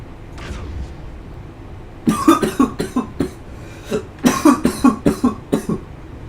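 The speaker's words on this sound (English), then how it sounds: "I wish half of my talking wasn't me coughing." A person coughs in two harsh bursts of several rapid coughs each, close and loud, with quiet moments before and between.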